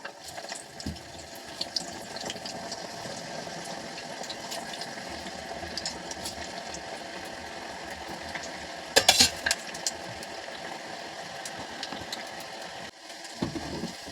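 Moong dal koftas deep-frying in hot oil, a steady continuous sizzle and bubbling throughout, with a brief clatter of utensils near the middle.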